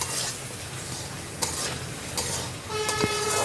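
Potatoes sautéing in a pan of koi fish and bitter gourd curry: continuous close sizzle with a few clinks of a spatula against the pan, no talking.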